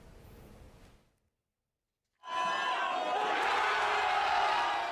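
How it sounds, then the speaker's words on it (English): Soccer fans in Seoul erupt into loud cheering and applause, a dense crowd roar with whoops that swells and holds after a short silence, preceded by softer crowd murmur. "Cheers and applause burst out from soccer fans who aren't shy about showing their passion."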